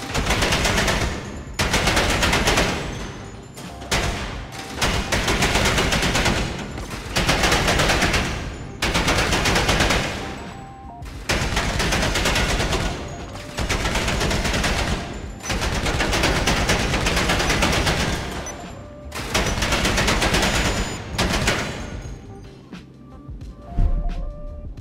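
Burst fire from an extended-magazine weapon in GTA Online: long, loud sustained volleys of rapid gunshots separated by brief pauses, continuing for well over twenty seconds with no talking.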